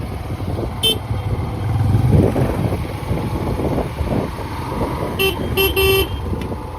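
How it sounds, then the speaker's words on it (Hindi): Horn from a Hero Xtreme 125 or Honda Hornet 125 motorcycle riding at about 20 km/h in third gear, giving a single loud toot around the 5–6 second mark, with an earlier brief beep, over steady engine and wind noise. "एक ही हॉर्न बजाया था"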